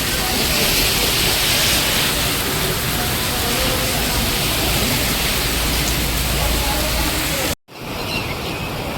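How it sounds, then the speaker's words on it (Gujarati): Heavy rain pours down steadily in a village during a downpour, a dense unbroken roar close by that fills the scene and cuts off abruptly near the end, giving way to a quieter background. "કલાકથી જોરદાર વરસાદ પડે છે."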